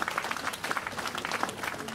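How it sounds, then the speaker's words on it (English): A lecture audience at a university special lecture applauds committee members, many hands clapping in a brisk, even wash that holds steady for the whole brief moment. "Please give a big round of applause for them."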